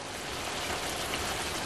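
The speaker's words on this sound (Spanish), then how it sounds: "Y lo vamos a cubrir de agua." Water pours over pork ribs in a cooking pot as one steady, rushing splash that runs evenly throughout, close by and with no voices.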